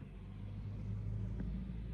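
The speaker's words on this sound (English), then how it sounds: "that was a nice car that went past." A car passes nearby on a road, a low rumbling engine swell that rises and fades within a couple of seconds, with steady background noise and no talk over it.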